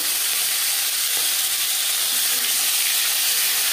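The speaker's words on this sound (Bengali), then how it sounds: "4 চামচ রিফাইন্ড অয়েল গরম করে নেওয়ার পর দিয়ে দেবো মাছ" Fish, bhangon or pakal, fries in hot refined oil, giving a loud, steady, continuous sizzling hiss with no talk over it.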